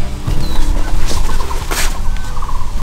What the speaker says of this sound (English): We hear some bird.